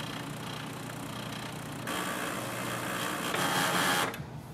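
An HP Envy Inspire 7220e printer runs after a paper jam is cleared, giving a steady mechanical whir and hum that grows louder partway through, then stops abruptly near the end.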